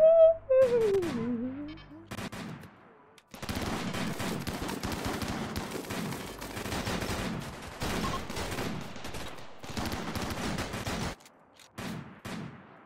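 Gunfire in the video game Rimworld, a raid firefight of many sharp shots in scattered clusters and rapid bursts, fairly loud and sustained.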